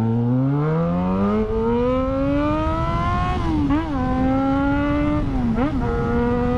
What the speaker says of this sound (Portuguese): Vamos ver se a moto é filé na escada.